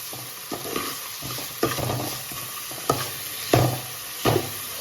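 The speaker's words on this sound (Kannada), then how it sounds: "ಇವಾಗ ಇದು ಚೆಂದ ಫ್ರೈ ಆಗಲಿ." Tomato and onion with salt sizzle and fry in a pan, a steady close crackle broken by several sharp scrapes and stirs of a spoon against the pan.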